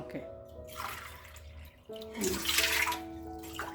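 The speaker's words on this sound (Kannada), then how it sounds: "ಎಂಟು ಲೋಟ ನೀರು ಹಾಕೋಬೇಕು" Water is poured into a vessel of soaked sago, two bursts of splashing and trickling separated by a brief pause, close and fairly quiet.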